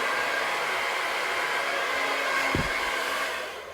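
A hair dryer blows hot air onto a brush while hair is being styled, a steady close whooshing roar that runs continuously and fades slightly at the end, with no voices.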